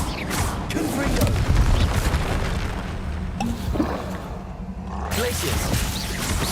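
Confringo fire spell blasts in a Hogwarts video game, heavy booming impacts and crackling bursts layered with battle noise and voices, loud and dense throughout.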